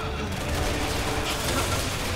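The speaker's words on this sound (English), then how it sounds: "I'm just going to use the assault rifle now" Assault rifle fire in Resident Evil 6 keeps up in a dense, loud stream of rapid shots that blur together with game ambience, with no clear gaps over two seconds.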